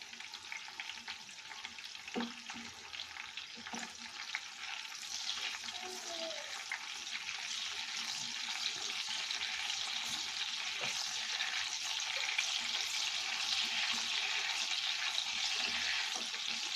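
Eggplant pieces fry in a pan for begun bhorta, a soft continuous sizzle with occasional light clinks that grows steadily fuller and louder as it goes on.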